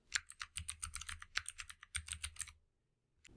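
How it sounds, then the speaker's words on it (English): Password being typed on a computer keyboard: a quick run of crisp, close key clicks in bursts, stopping before a short quiet end. "For this example, I'm going to enter a password."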